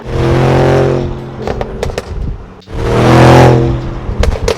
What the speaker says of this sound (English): Those pops and crackles, they just sound so good.